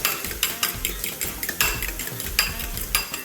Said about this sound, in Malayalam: നമുക്ക് ഒരു എഗ്ഗ്, കുറച്ച് പെപ്പർ പൗഡറും ഉപ്പും ചേർത്ത് കൊടുത്തിട്ട് നന്നായിട്ടൊന്ന് ബീറ്റ് ചെയ്തെടുക്കാം